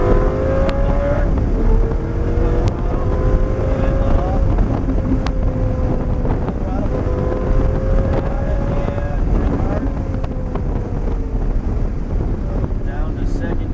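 A Lamborghini held at full throttle on an airport circuit at Grosse Ile, its engine droning loudly and steadily with rising pitch sweeps through gear changes, buffeted by heavy wind noise, with a voice speaking over it.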